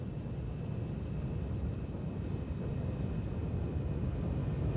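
Red Arrows jet aircraft flying close in formation give a steady, broad roar that holds at an even level throughout, with no talk over it.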